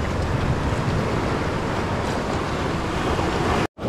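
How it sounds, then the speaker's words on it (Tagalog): Big ocean waves surge and roll in a constant loud wash of surf mixed with wind buffeting the microphone, broken only by a brief dropout near the end, with no talking. "malaki talaga yung alon"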